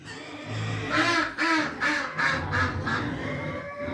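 Ducks on a ranch quack loudly and close by in a rapid series of about six harsh calls, with a low background murmur of farm noise.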